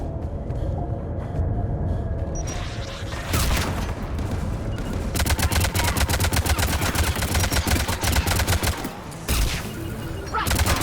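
A mounted turret fires in the Mass Effect 3 video game. Loud, sustained rapid automatic gunfire mixes with heavy booms and battle noise, with short breaks between bursts.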